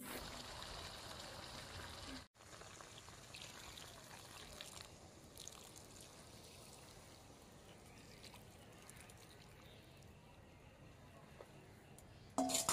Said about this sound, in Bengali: এখন আমি এর মধ্যে গরম জলটা দিয়ে দিচ্ছি।